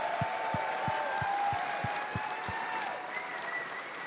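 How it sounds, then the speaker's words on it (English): Audience applause during a Warframe TennoCon convention panel, a dense, steady wash of clapping from a large crowd that holds evenly and tapers slightly toward the end, with rhythmic low thumps beneath. "So big round of applause to the whole sound team at DE."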